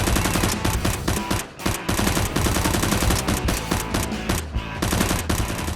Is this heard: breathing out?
no